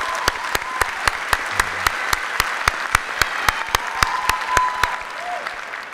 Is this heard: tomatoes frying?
no